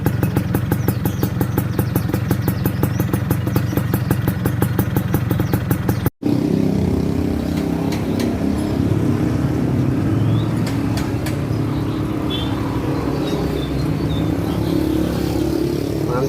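Yamaha Fiz R motorcycle fitted with a stainless racing exhaust, revving in steady rapid pulses at close range before the engine note shifts to a rougher, throaty idle with clattering.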